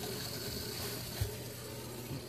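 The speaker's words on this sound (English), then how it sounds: "I hear water flowing." Quiet, steady water flow into a six-stage iSpring reverse osmosis filter system after a filter change, a low continuous wash with a faint mechanical click partway through, no voices.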